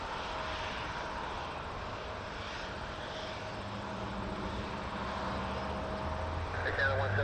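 An airplane engine drones steadily at Toronto Pearson Airport, a continuous distant roar that swells slightly toward the end, with radio voices talking over it.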